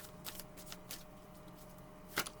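Tarot cards are shuffled by hand in several quick, papery riffles, quiet and close, with a sharper snap near the end and no speech.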